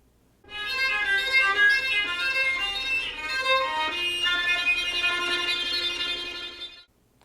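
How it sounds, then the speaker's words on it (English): A bowed violin note played near the bridge, glassy and thin with shimmering overtones, sustained for several seconds alone before fading out. "This effect is known as sul ponticello, which means on the bridge."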